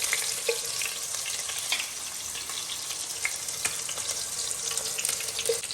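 Green chili and fennel seeds hit hot oil in a pan while cooking chicken, giving a steady close crackling sizzle with occasional sharper pops and stirring scrapes; no talking.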